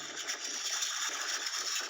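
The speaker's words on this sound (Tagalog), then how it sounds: "Mataas yung alon na tumama." High ocean waves slosh and rush against a small fishing boat out at sea, a steady, fairly faint watery wash with no voices.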